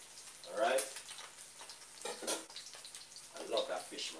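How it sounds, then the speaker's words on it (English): Sea bass slowly pan-frying, giving soft sizzling and crackling bursts at a moderate distance, rising and falling in a few spurts rather than a steady hiss. "You wanna slow fry the fish, you know?"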